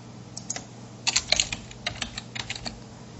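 Typing on a computer keyboard while entering student details into class software: a quiet, close run of light key clicks in irregular bursts, some quicker clusters, with no talking.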